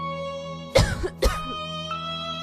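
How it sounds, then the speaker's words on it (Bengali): An elderly woman coughs twice in quick succession, close by and fairly loud, against a steady humming background with no talk. "আপনি হঠাৎ এত কাশছেন কেন"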